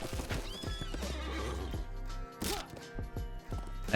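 Wild horse in The Lord of the Rings Online neighing loudly while hooves clip-clop in a steady rhythm, close and clear, with an impact thump near the end.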